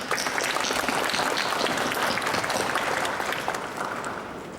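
Audience applause at a secondary-school young writers awards ceremony in Hong Kong, a dense, loud wash of many hands clapping that holds steady and then begins to thin out, with no voices over it.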